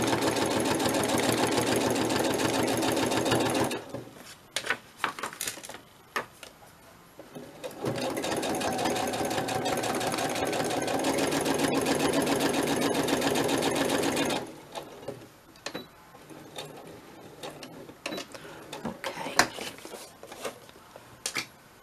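Sewing machine stitching along the edge of a fabric journal envelope, a steady fast mechanical whirr in two long runs separated by quieter pauses filled with handling clicks and rustles.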